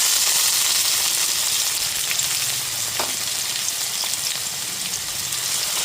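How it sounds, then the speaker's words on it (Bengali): Chopped onions, three large ones, frying in a pan of melted sugar over a medium gas flame, giving a steady, close, continuous sizzle with no voices. "এবার গ্যাসের ফ্লেমটা মিডিয়ামে রেখে পেঁয়াজটাকে খুব ভালো মতো ভেজে নেব"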